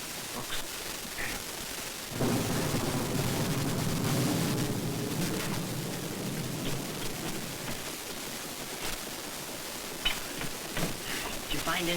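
A thunderstorm with steady heavy rain hisses around a boat in a 1939 film scene, a broad continuous wash of noise that swells after a quiet start and carries on under sparse voices.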